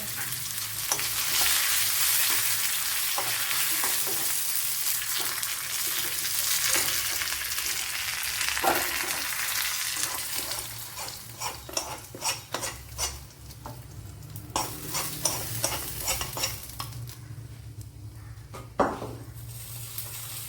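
Dried red chilies and curry leaves fry in hot oil over browned onions for a drumstick curry, a steady loud sizzle with spoon stirring and occasional clinks of utensil against the pan, crackling bursts toward the end.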